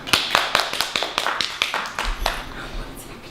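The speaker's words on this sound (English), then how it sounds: "You gotta clap at the beginning too." A few people clap in a sparse, uneven rhythm of close, crisp claps that thin out toward the end.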